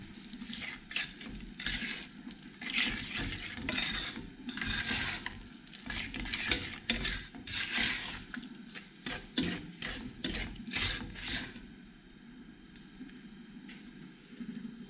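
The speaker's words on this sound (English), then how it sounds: "We're just going to stir that in until that's melted into that" Chocolate stirred into a melted brownie mixture, a run of steady, fairly loud wet scraping and swishing strokes close by that fades to quiet near the end, with no talking.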